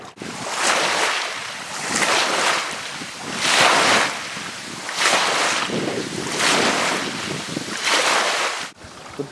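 Waves washing onto a beach, loud, rolling surges that rise and fall in a regular rhythm about every two seconds, mixed with wind and no talk.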